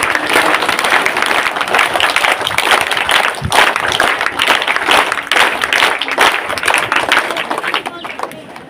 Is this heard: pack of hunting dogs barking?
no